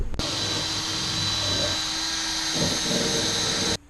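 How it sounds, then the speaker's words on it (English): A power drill whirs steadily at close range for several seconds cleaning bolts, its high-pitched motor hum broken by a brief surge near the end before it cuts off. "Hit it with the drill"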